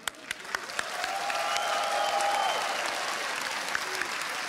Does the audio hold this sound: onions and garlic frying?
no